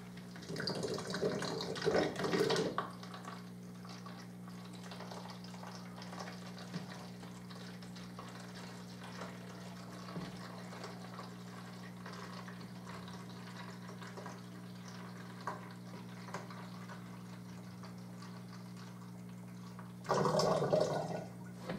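Water pours into a plastic bottle for a homemade CO2 system, two bursts of splashing flow at the start and end with a quiet steady hum between them.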